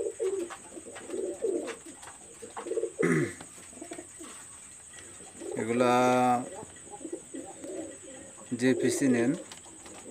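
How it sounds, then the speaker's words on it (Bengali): Lalpari pigeons, a male among females, give soft repeated coos in short bursts near the listener, broken by a few louder calls while someone talks in between. "দেখেন এখানে একটা মেল কবুতর আছে, সেটা হলো লালপাড়ি যে মেলটা"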